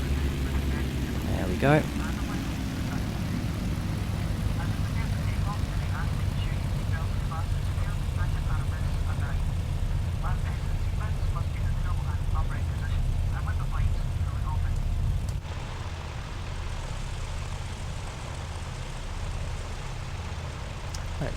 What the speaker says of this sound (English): we need to put a little bit more throttle in just to get the aircraft rolling